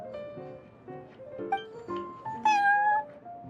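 A cat meows in Genshin Impact at the Cat's Tail, a string of several close, clear mews that grow louder and more drawn out toward the end.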